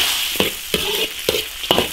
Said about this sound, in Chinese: 鸭肉下锅炒